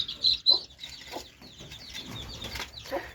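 Free-range village chickens cluck and call near a brood of chicks, short bursts of soft clucks and a few sharper calls coming close and clear over a quiet outdoor background, with no talking.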